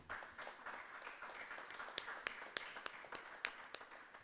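Scattered clapping from a church congregation cheering for Jesus, fairly faint and distant, with sharper individual claps standing out toward the end.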